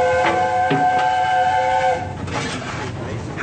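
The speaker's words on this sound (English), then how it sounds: "This is what happens when you are on this spectacular express locomotive." Oliver Cromwell steam express locomotive on the run, a loud whistle blast sounding over the rumble of the train, then fading into steady rolling rail noise.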